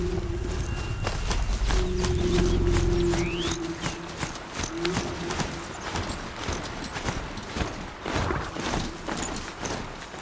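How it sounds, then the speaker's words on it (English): Rhythmic hoof-like clip-clop steps of a machine horse strider being ridden at a fast pace in the video game Horizon Zero Dawn, steady and fairly close, with a low mechanical hum early on and no talking. "We are riding a machine horse."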